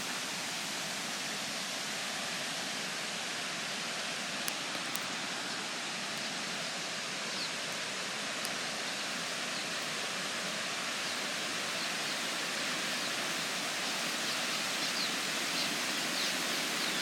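Water spills over the Pawnee City Lake dam into Skedee Creek in a steady, dense rushing roar that holds at an even level throughout, with faint bird chirps and no talking.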